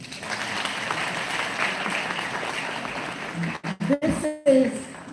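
An audience applauds at a university event, a dense wash of clapping that runs steadily for several seconds, then breaks off abruptly into scattered louder bursts near the end.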